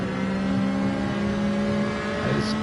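A Ferrari race car engine drones steadily from onboard in a racing game, a loud, sustained tonal whine held at high revs without a break.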